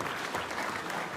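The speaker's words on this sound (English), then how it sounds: "I think all of you just deserve a round of applause for what you do." An audience at a Senate Veterans' Affairs hearing applauds in a brief, dense patter of many hands clapping at once, steady and fairly close throughout.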